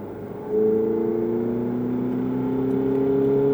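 A Ferrari engine hums at low revs, then opens up and accelerates with a steady rising drone heard from inside the car, loud and continuous with no talking.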